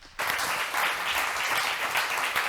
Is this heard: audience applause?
yes